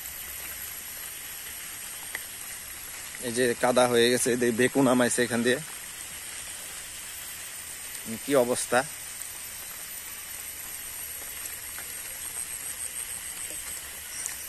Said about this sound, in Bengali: যেহেতু বৃষ্টি, একদম রাস্তাটা ভেজা